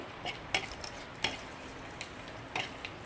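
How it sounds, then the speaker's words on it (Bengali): Dry chilli, fenugreek and panch phoron being stirred in hot oil in a pan, with a few sharp spoon scrapes and clinks over a quiet, faint background sizzle. "শুকনো লঙ্কা মেথি পুরুন দিয়ে দিয়েছি দিয়ে অল্প নাড়াচাড়া করে নেব"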